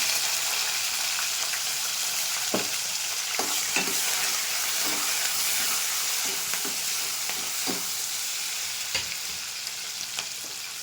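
Vegetables and spices for vegetable biryani sizzle steadily in hot oil, with occasional scraping strokes of a stirring spoon over the constant close frying hiss.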